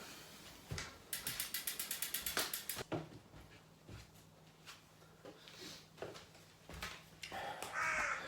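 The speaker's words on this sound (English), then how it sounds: "hear that crow?" A crow caws outdoors at moderate distance, its harsh calls mixed with a rapid ratcheting mechanical clicking and other faint background noise.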